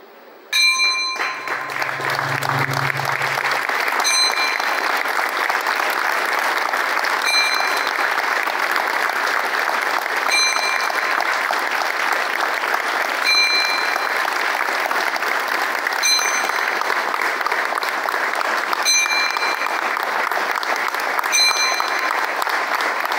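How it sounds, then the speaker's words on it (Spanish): Sustained applause from a gathered crowd in tribute to a deceased sports commentator, steady and even for over twenty seconds, with faint bell-like tones ringing through at regular intervals. "aplauso, este último adiós, a este gran comentarista, Javier Sagún."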